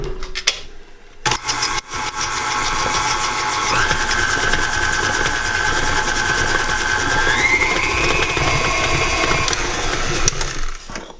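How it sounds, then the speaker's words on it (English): Electric mixer beating shortening and sugar for crisp sugar cookies, a steady motor whir running on and on with a slight rise in pitch partway through, loud and close with a few clicks at the start. "Put it in your mixer and beat it until it's light and fluffy."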